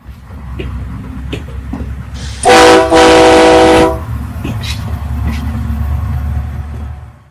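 An Indian train horn gives two short blasts in quick succession, loud and close, over a steady low rumble of the train and station.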